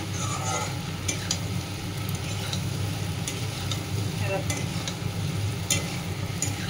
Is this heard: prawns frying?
yes